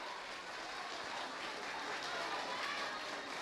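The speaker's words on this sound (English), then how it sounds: "There's an audible pop in the crowd as the man who wears Hervas Bidik on his back enters the field." A stadium crowd at a Philippines Football League match between Kaya FC-Iloilo and United City FC cheers and applauds as captain Joven Bidik walks onto the pitch, a steady, dense wash of noise from a distant mass of fans.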